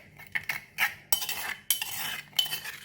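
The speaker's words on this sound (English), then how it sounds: "So just stir it" A spoon stirs a Thai chilli seafood dipping sauce in a bowl, making quick clinking and scraping strokes against the sides in irregular bursts. The sound is close and fairly soft, with no talking.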